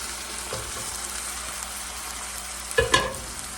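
Drained pasta tipped into a pan of garlic butter, a continuous sizzle that flares with two quick clattering scrapes near the end, no voices.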